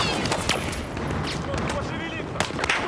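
MP7 submachine gun fire in Battlefield, with rapid bursts and shot cracks layered over a dense roar of battle noise, steady and loud throughout, with scattered distant gunfire mixed in.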